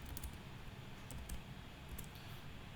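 Typing on a computer keyboard while filling in an online application form: faint, quick, irregular key clicks that come in short bursts against a quiet room, with no one speaking.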